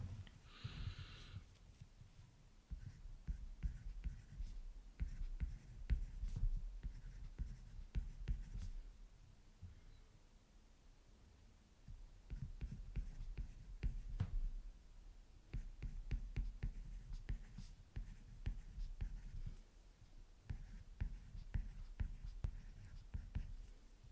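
Pen writing by hand on paper during an English workbook lesson, a soft continuous scratching with short strokes and pauses, faint and close, with low breathy room noise.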